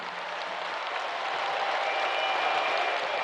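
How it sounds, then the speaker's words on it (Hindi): A large crowd applauds steadily at a ceremony in Saraswat Math, a temple monastery, a dense continuous wash of clapping at moderate volume with no talk over it. "आप जोर से तालियां बजाकर उनका फिर से अभिवादन"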